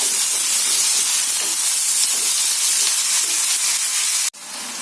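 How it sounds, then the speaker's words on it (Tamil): Onions, curry leaves and green chillies sautéing in a pan for a Tamil mutton pepper fry, giving a loud, steady hiss of steam and sizzle that runs continuously, then cuts off abruptly near the end before resuming more quietly. "அப்புறம் கொஞ்சம் கருவேப்பிலை, அப்புறமா 3 பச்சை மிளகாய் ஆட் பண்றேன். இது இப்ப நல்லா வதக்கலாம்."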